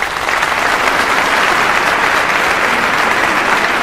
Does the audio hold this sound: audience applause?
yes